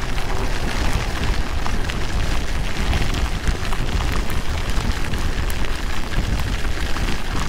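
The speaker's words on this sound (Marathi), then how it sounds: "आई शपथ, काय पाऊस पडतोय." Torrential monsoon rain pours down during a drive on the Mumbai–Goa highway toward Konkan, a dense, loud, unbroken roar of rain hammering the vehicle that fills the whole clip, with no voices.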